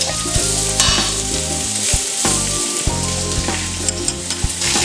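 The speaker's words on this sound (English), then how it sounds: "we're going to turn that heat up to high to really get some browning on these vegetables" Vegetables browning in a pan over high heat with sausage remnants on the bottom, a loud close sizzle with repeated scraping and stirring strokes throughout, no voices.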